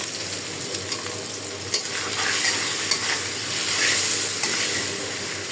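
Fish milt sizzling in a pan while being stirred, a dense close hiss that swells and eases, with a couple of light spatula taps and no talking.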